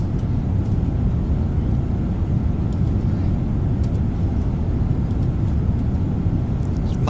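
Steady, loud low-frequency rumble inside a Boeing 777-200 airliner cruising at altitude over Greenland, a continuous cabin drone with faint higher hiss and no break across the stretch.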